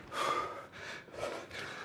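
Heavy, rhythmic breathing during a Navy SEAL-style HIIT workout, several forceful close gasps and exhales in quick succession.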